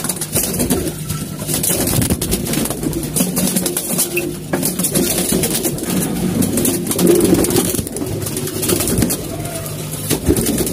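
Female pigeons cooing nearby in a loft, soft repeated low coos running throughout with faint rustling and a distant engine hum in the background.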